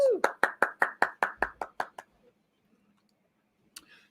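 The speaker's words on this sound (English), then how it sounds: "Give her a big round of applause, please." About a dozen sharp, evenly spaced claps ring out close and clear in a quick rhythm at an awards event, stopping after two seconds and leaving near silence before a faint rustle.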